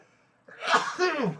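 A single loud, close sneeze, a sharp intake followed by an explosive burst, alone with no talk.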